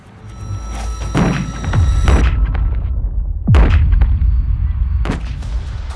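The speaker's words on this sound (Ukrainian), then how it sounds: "Увага, підпал! пішло. Зараз воно вибухне." Landmine detonated during field demining of farmland by an improvised demining machine: several heavy booms and thuds land one after another over a few seconds, loud and reverberant, with a rumble lingering between blasts.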